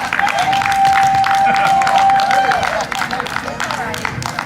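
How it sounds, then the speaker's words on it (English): An audience claps loudly and steadily after a speech at a special occasion, dense applause with a sustained tone and some crowd noise, tapering off near the end. "Let's give him another applause."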